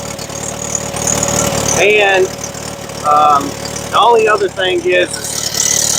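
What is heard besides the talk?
Bobcat skid steer engine idling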